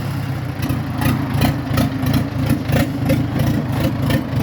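An Orion 404 40-horsepower tractor engine runs steadily nearby, a loud continuous low chugging with a regular pulsing beat.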